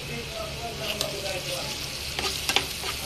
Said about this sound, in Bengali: আমার পেঁয়াজ আর রসুনগুলা ভাজা হচ্ছে। এখন দিয়ে দিব কয়েকটা শুকনো মরিচ